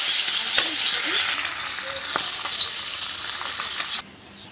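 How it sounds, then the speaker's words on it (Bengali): Cabbage seasoned with salt and turmeric fries in hot oil in a wok, a steady close sizzle and crackle with faint stirring scrapes throughout, cutting off abruptly near the end. "এবার লবণ হলুদ মেখে তেলে ভাজি করে নেব"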